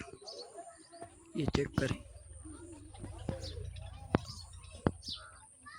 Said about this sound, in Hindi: ये कबूतर आ गए